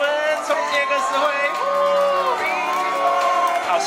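Wedding guests at a champagne ceremony cheer loudly together, with whoops and excited shouting voices rising and overlapping in a lively, close crowd roar that carries through the whole moment.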